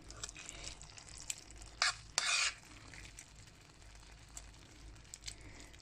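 Zucchini and onions cook in olive oil with garlic, salt, ginger, turmeric and paprika on a stovetop: a quiet, steady low sizzle with a few short scraping stirs near the middle.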